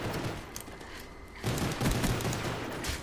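Rapid bursts of gunfire from a video game shooter in Sharpshooter mode, several close, loud shots and a volley cluster with a busy mixed backdrop and no speech.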